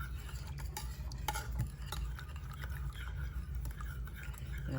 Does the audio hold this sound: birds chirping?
no